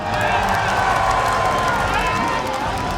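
A large crowd roars and cheers at a Thai boxing match in a packed arena, steady and loud throughout, while an announcer's voice carries over the noise.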